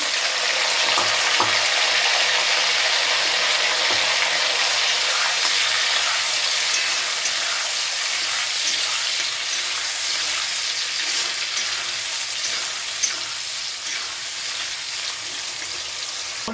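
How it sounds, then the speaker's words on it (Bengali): Onions and tomatoes frying in oil tempered with cumin, whole garam masala and bay leaf: a constant, bright hissing sizzle at moderate loudness, with faint occasional stirring ticks and no talking. "পেঁয়াজগুলো দিয়ে দেবো, পেঁয়াজ টমেটো"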